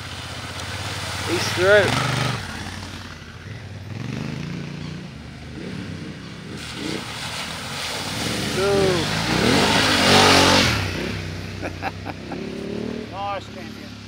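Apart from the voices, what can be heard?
motorcycles riding through on an adventure trail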